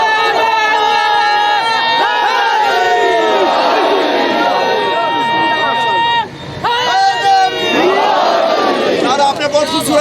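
A large crowd at a Muharram religious gathering chants slogans in loud, layered unison, with a brief drop in the middle before the chanting swells back, voices overlapping in a dense roar.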